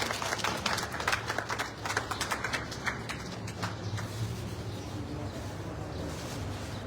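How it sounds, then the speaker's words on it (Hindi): Applause from a gathered crowd at a road foundation-stone ceremony in a ward, greeting the local MLA; dense clapping swells at first, then thins into a steady murmur, with faint bird calls in the background. "जोरदार तालियां बजाइए विधायक जी के लिए।"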